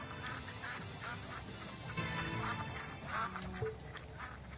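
Ducks quack in a PS4 video game, a continuous flurry of overlapping nasal quacks from several birds at steady, fairly close volume over game background noise.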